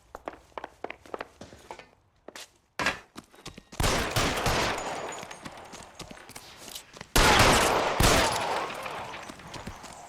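Gunfire crackles through an L.A. Noire shootout, beginning with spaced single shots and then breaking into loud, dense volleys that rise to a sharp peak late on, with footsteps and scattered sounds between the bursts.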